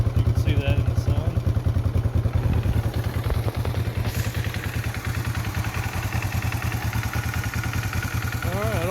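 A Honda CL450 Scrambler motorcycle engine runs steadily at idle, with a loud, close, continuous throbbing and mechanical clatter that carries on unchanged through the whole stretch.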